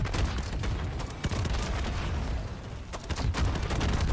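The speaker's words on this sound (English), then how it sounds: "I just kind of run around this building and take pop shots at them" Gunfire at the Mangler in MW Zombies, rapid bursts of loud close shots in quick volleys with booming impacts, a dense continuous barrage with no talking.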